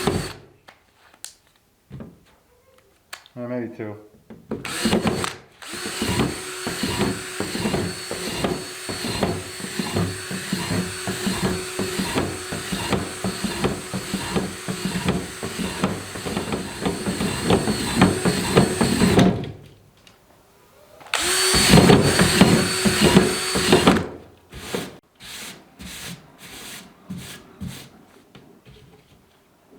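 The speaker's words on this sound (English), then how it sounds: "we're going to set this to 1 and just kind of just drill a bunch of holes." A power drill whines in long bursts up close, running steadily for several seconds, stopping, then boring again in shorter spurts; a voice speaks briefly.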